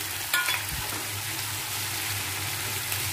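Fish frying in a pan with tomato added, giving a steady, close sizzle with brief stirring and clatter near the start, no talking.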